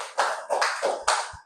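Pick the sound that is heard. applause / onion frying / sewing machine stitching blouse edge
applause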